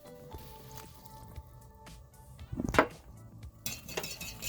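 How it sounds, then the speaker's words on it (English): A soy and Worcestershire sauce marinade whisked in a pan for venison jerky, wet squishing and sloshing with a louder splashy stir midway over a steady simmering background. "Just keep whisking it and letting it cook down."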